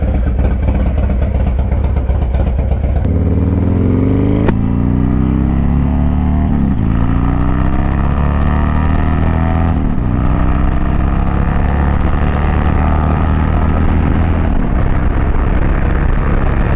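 A motorcycle being ridden in Michigan, a loud, close engine drone that rises through gear changes with steady wind rush throughout, no talk.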